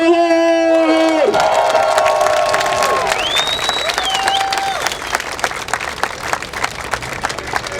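A large street rally in Bishkek, over a thousand people marching for free speech, breaks into sustained crowd applause and cheering, dense clapping with scattered whoops and shouts after a sung or chanted voice fades out.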